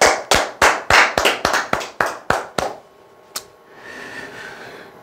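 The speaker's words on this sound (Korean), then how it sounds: "박수 한번 부탁드리겠습니다" A group of listeners at a Korean lecture on insurance telemarketing claps in a quick, even rhythm, about ten sharp, close claps over three seconds, then falls into quiet room noise.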